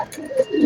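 A pigeon coos close by, a short low murmuring call rising and falling over a little under a second.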